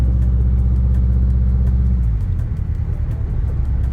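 Subaru WRX engine pulling hard in first gear, a loud, steady low rumble that rises in pitch as the car accelerates, with a shift in tone about halfway through and no talking over it.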